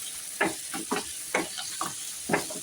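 Frozen green peas being stirred and sautéed in a pan while making samosa filling: repeated scraping stir strokes, about five across the span, over a steady soft frying hiss, close and fairly quiet with no talking.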